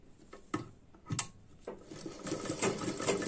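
A sewing machine stitches a blouse in short bursts, first a few quick separate runs, then a steady continuous whirring stitch, fairly close and moderately loud with no talking.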